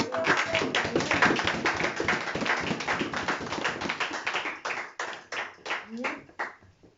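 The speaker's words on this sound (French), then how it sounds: "Acclame, acclame, acclame." Church congregation clapping together in a dense, sustained burst with voices mixed in, the claps loosening into separate, fading hits toward the end.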